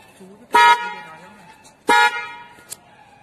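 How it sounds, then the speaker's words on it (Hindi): Two loud, blaring blasts from a newly fitted dual horn on a one-year-old TVS Jupiter scooter, each held for about a quarter second with a pause between, followed by a short click. "पहले इसमें सिंगल हॉर्न था और अब हमने इसमें ड्यूअल हॉर्न करा दिया है"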